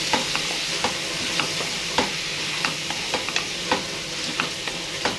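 Bottle gourd curry being stirred in a pan, with a spoon scraping and tapping at an even rhythm over a continuous sizzling hiss, close and fairly loud, nobody speaking.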